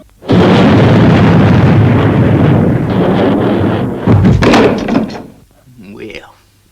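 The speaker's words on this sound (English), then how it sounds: "Fire main boosters, Robert. Firing main boosters." Main boosters firing on the Fireball XL5 spaceship, a loud sustained roaring blast of rushing noise lasting several seconds before a burst and fading rumble.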